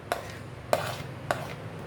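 A knife chops a medium onion finely on a board: three crisp, evenly spaced cuts, close and moderately loud over a faint background hum, with no voices.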